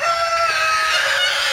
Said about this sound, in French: Chaque poulailler contient 2 à 3, maximum 4 poules. Ou 3 poules et un coq